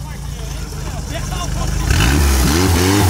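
A car engine revs at a car meet in Santa Gertrudes, climbing from a low idle into loud rising revs near the end, with people talking and shouting over it.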